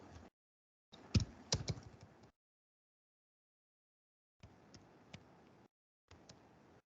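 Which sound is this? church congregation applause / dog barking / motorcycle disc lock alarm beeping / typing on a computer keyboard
typing on a computer keyboard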